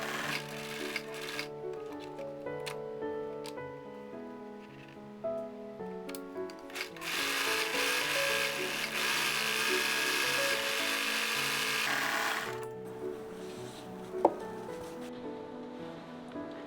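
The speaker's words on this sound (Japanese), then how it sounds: "見返しの肩と端にロックミシンをかけます" An overlock serger stitches the shoulder and edges of a facing on a Liberty fabric blouse, running steadily with a fast mechanical whir and clatter, quiet and close, and a louder busy stretch in the middle before it slows and stops.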